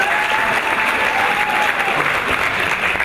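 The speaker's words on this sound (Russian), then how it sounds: "Держите, пожалуйста, аплодисменты." An audience at a children's stage performance claps loudly and steadily for the whole stretch, a dense, even wash of applause.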